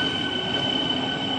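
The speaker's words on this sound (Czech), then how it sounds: "Regiopanter Blaženka na osobním vlaku odjíždí z stanice" A Regiopanter passenger train departs a station in northwest Bohemia, a steady loud rumble with sustained high whining tones from wheels or traction motors, brief and without voices.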